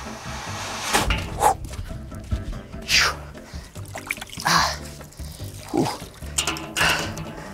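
Hot water pours and trickles in uneven splashes over a 55-gallon steel drum, with a few clinks and knocks mixed in, close by and moderately loud.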